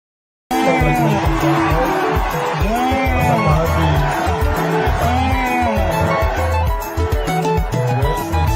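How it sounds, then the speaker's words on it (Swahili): A large crowd at a Raila Odinga political rally in Kamukunji, loud continuous cheering, whooping and applause with shouting voices mixed in, sustained throughout after a brief silent start. "Pigie makofi mazuri."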